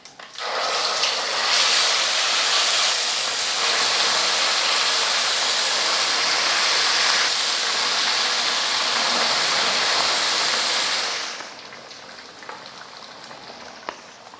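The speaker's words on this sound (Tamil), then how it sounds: "இப்போ தக்காளி விழுது சேர்த்துக்கலாம்." Tomato paste sizzles loudly in hot sesame oil with popped mustard seeds for a tomato pickle, a steady, close, dense crackling hiss that lasts about eleven seconds, then drops to a faint low simmer.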